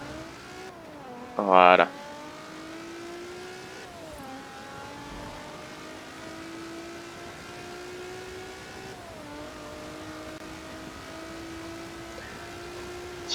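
A car pulls away from a standing start in Forza Horizon 4, its engine note climbing and shifting through gears in steady rising sweeps; a brief loud burst near the start comes with a short spoken word.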